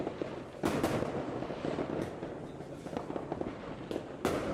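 New Year fireworks in Pakistan crackle and pop in scattered bursts over a constant rumbling wash, sounding fairly distant and moderately quiet, with no clear voices.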